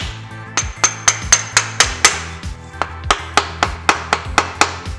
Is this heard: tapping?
yes